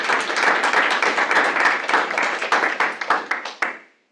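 A small audience at a stakeholder meeting applauds for the play of the week, a brisk patter of clapping that thins out toward the end into a few scattered claps before stopping.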